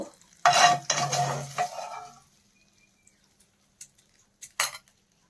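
A spoon stirs oil tempering into raw mango and tomato chutney, with a loud scraping clatter for about two seconds, then quiet, followed by a few faint isolated taps and one sharp knock.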